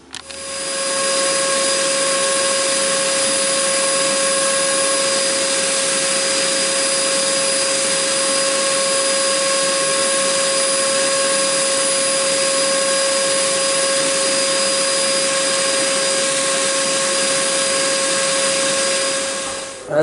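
Bee rescue vacuum running steadily for the whole stretch, a loud constant whirring drone with a strong steady whine, starting and stopping cleanly at the ends, no voices.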